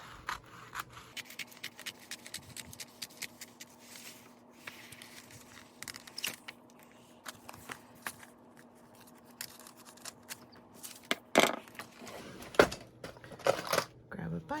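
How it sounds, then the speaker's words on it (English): Scissors trim paper pieces to an even width for a junk journal, sounding as scattered quiet snips and scrapes with a few sharper clicks and rustles in a calm room, with soft speech in places. "So I'm just going to trim them so they're all the same"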